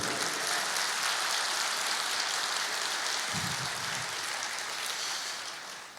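A church congregation applauds, a dense, sustained wash of many hands clapping that fades slightly toward the end, with no talk over it.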